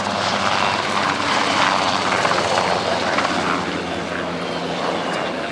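A Westland Wessex HAS-1 gas turbine anti-submarine helicopter flies past at an airshow, its rotor and turbine giving a loud, steady, close whirring roar with no talk over it.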